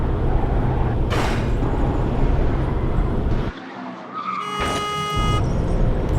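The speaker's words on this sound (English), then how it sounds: "now the outside sounds sound like they're muffled when we're inside of the car" Car chase sound effects for a sound-design rework of a Ronin chase scene, with the outside sounds muffled as if heard from inside the car. Loud, continuous engine roar with tire skids throughout, dropping to a dull muffle before swelling again.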